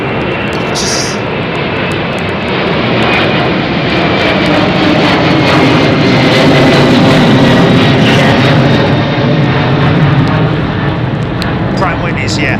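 Pratt & Whitney jet engines on aircraft at London Heathrow under a low cloud base, a loud, sustained roar that swells and holds steady throughout, with faint voices beneath it.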